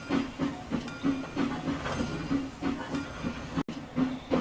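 A freight train in the Trainz video game rolls past with rhythmic clickety-clack of wheels over rail joints, a steady rumble and faint hiss, moderately loud and alone.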